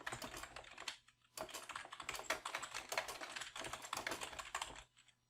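Quick, continuous clicking of keys on a computer keyboard, fairly quiet and close, with brief pauses between bursts and no one speaking.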